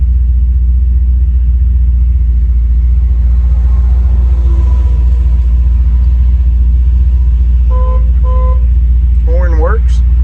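Two short, close horn honks come from a 1962 Chevrolet Biscayne with a 409 V8, sounding late over a constant low engine rumble in traffic.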